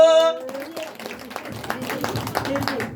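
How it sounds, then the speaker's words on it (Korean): Audience applause at a Seongbuk free-village launch ceremony greets the Jeongneung 3-dong representative: scattered, fairly close hand claps that build and continue steadily after a brief voice at the start. "정릉 삼동 대표님이십니다. 박수."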